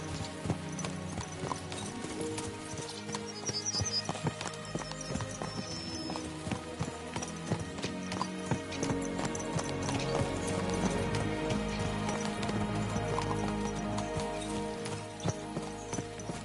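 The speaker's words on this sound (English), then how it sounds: "Let's really spur these horses on, eh?" Horses gallop in Kingdom Come: Deliverance 2, a medieval video game, their hooves clip-clopping in a quick, steady rhythm throughout under a continuous musical score.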